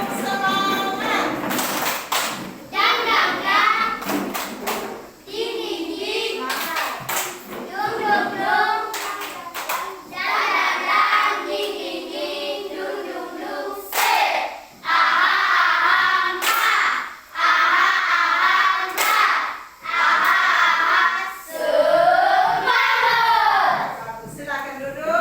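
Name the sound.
children doing rhythmic spirit clap (tepuk semangat)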